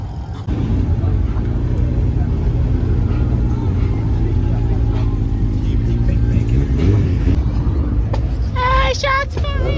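Car engine revving at a large car meet with a crowd of about 1300 people, a loud sustained engine roar that holds steady throughout, with people talking and shouting over it nearby.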